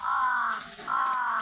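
Crows caw loudly and close by, two harsh drawn-out calls with a short gap between them, heard alone.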